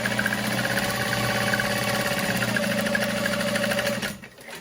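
A sewing machine runs steadily, stitching the lining seam of a convertible backpack, a fast even mechanical whir for about four seconds before slowing to a stop near the end.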